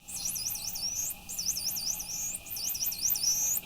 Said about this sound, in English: And a second dolphin responds using the same tones.